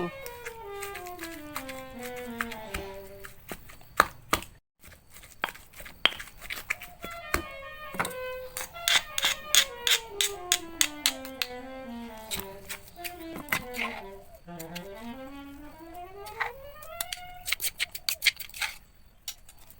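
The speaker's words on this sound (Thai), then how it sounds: "เราใส่น้ำพริกเครื่องแกงลงไปนะคะ โขกให้ละเอียด ให้เข้าๆกันนะคะ" A pestle pounds curry paste in a mortar with many sharp, rapid knocks in a steady rhythm, close by, while gliding, whistling tones sweep up and down alongside.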